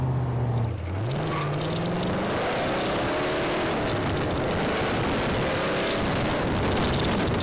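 A vintage California hot rod with a small flathead engine pulls away and accelerates hard, its loud exhaust roar rising steadily in pitch through the gears and staying close throughout, with wind rushing past.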